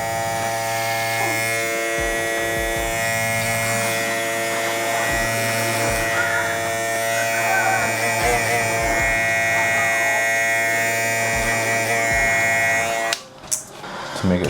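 An electric beard trimmer buzzes steadily up close as it lines up a mustache along the lip, a constant whining hum that runs for about thirteen seconds before cutting off abruptly near the end.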